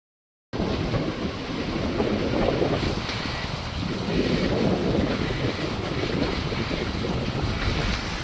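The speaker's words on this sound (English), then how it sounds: "There is a bora blowing." Strong bora wind roars steadily across a solar-powered yacht, buffeting the microphone, with water rushing and splashing beneath throughout.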